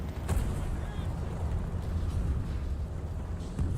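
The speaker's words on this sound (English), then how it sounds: "I hear your engine." A low, steady tank engine rumble in War Thunder drones throughout, loud and continuous, with faint crackles and distant thuds over it.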